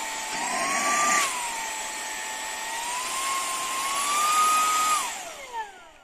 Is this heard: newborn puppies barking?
no